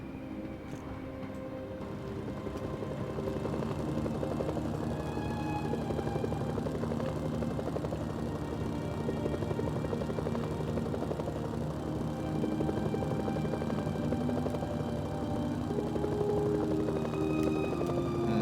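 Helicopter in the Mercenaries: Playground of Destruction video game, a steady droning rotor and engine sound that holds loud and even throughout with no talking.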